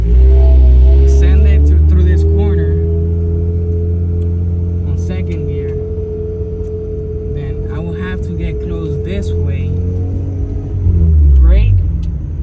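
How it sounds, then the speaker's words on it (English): A Mazda RX-8 with a possible coolant seal failure accelerates through a corner in second gear, its rotary engine holding a loud, steady droning note close by before rising briefly near the end, with a voice speaking over it. "send it through this corner on second gear,"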